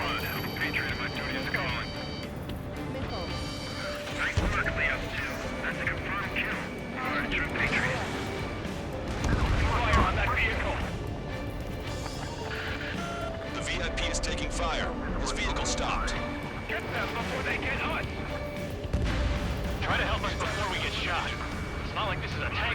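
In the Ace Combat 7 flight combat game, missile explosions boom heavily and repeatedly over a steady roar of jet engines, while radio voices speak throughout.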